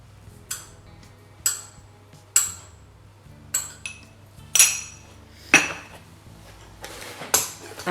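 A metal teaspoon clinks against a bowl of chopped vegetables again and again as salt is added, about nine crisp taps at an uneven, unhurried pace with quiet gaps between.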